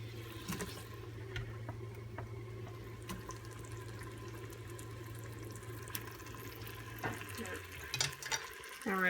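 Onions go into a pot with a splash of water and sizzle softly for BBQ pulled beef, a quiet, continuous hiss with scattered clicks and a low hum beneath.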